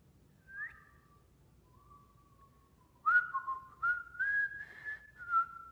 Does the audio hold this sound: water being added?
no